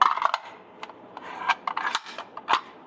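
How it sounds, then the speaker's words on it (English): A Sons of Liberty Gunworks rifle bolt carrier group slides into a buffer extension with no hammer installed: close, quiet metallic scraping and rubbing broken by a few sharp ticks and clicks, with no talking. "We're going to put the carrier in here, stopping up against the extension."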